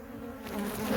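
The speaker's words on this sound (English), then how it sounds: "I'll be able to push the bees up and fingers crossed grab Queenie" Honeybees buzzing during a beehive removal from a tree, a steady close insect drone that swells slightly louder toward the end, with no talk.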